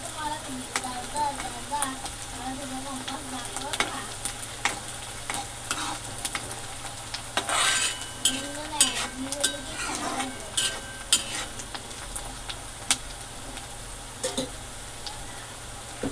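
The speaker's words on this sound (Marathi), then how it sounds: "आता इथं आपला कांदा मऊसर असा होत आलेला आहे" Onion softening in a pan as it fries, continuous sizzling under repeated spoon scrapes and clinks against the metal, with a voice speaking faintly at times.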